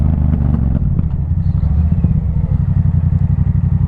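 A 2024 Yamaha MT-07 motorcycle being ridden, its twin-cylinder engine thrumming loud and close with a throbbing, pulsing rhythm and steady road rumble, no voices.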